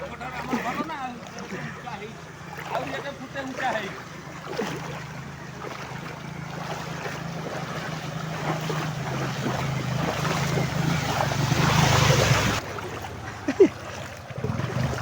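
A boat moves through floodwater in a flooded village, with a steady low rumble and water wash that swells toward the end, and voices talking throughout.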